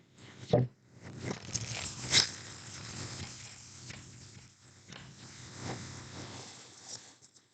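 Close, papery riffling and soft slaps of cards being shuffled, with light rustling noise in the background.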